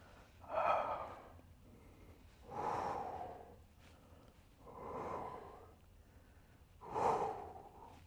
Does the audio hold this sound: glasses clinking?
no